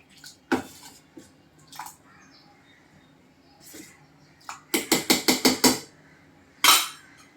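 A spoon clinks against a pot while tamarind and jaggery dal is stirred, with scattered single knocks and then a quick run of six or seven close rhythmic taps, followed by one last clink.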